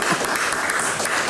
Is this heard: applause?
yes